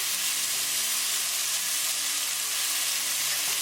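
Tomatoes hit hot oil in a tadka for a rajma curry and sizzle loudly, a steady bright frying hiss throughout, with no talking.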